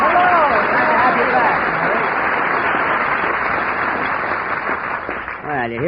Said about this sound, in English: you hear that applause, Mary?